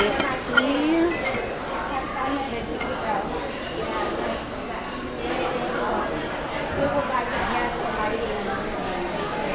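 Knife and fork clinking against a plate of vegan meatballs and spaghetti at Tony's Town Square Restaurant, Walt Disney World, light scattered clinks under steady restaurant chatter and background noise.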